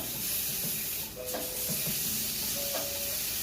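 Chicken teriyaki skewers sizzle on a hot griddle in a restaurant kitchen, a steady close hiss and crackle with occasional stirring or scraping, no talking.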